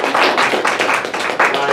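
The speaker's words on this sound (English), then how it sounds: "Round of applause, real quick." A class of students gives a quick round of applause, a dense burst of many hands clapping close by and fairly loud throughout, with no talk over it.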